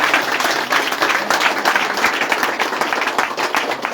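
A church congregation stands and applauds, producing dense, loud, continuous clapping that fills the hall with a faint crowd murmur beneath it.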